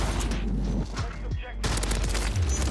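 Rapid bursts of AMR9 fire in Call of Duty MW3 ranked play, dense overlapping shots close up, mixed with game effects and excited talk.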